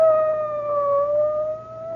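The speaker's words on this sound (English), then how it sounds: "It's a police car." A police car siren in a radio drama wails steadily with a slowly rising and falling pitch, loud and continuous, with no voices over it.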